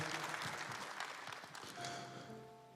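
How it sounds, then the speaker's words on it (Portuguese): A congregation at a Catholic Mass claps together in a steady, dense patter of applause, heard from a little distance in a large church. "Vamos aclamar com uma salva de palmas esse Evangelho"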